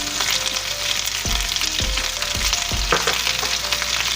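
Potatoes fry and sizzle steadily in a pan, seasoned with black pepper, paprika and garlic powder, with several brief stirring scrapes breaking the continuous close, loud crackle.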